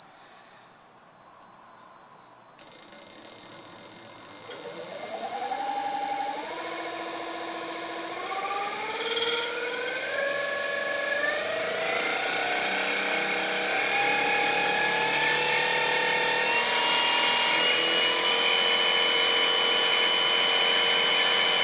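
A generator built from a 0.75 kW water pump motor runs under load at up to about 2500 rpm. It gives a loud, steady whine that climbs in pitch in stages, then holds a high tone with no voices.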